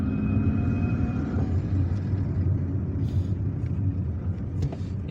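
Road traffic in Algiers on a Friday afternoon: a continuous low rumble of cars and engines around a driving vehicle, steady and moderately loud with no talk.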